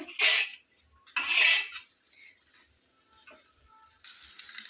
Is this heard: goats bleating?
no